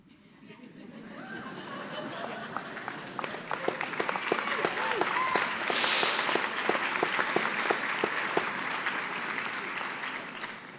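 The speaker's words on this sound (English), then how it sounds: "The clapping was for me." An audience claps at a graduation ceremony, beginning softly and building into steady, dense applause that holds at a moderate distance, with murmuring voices mixed in.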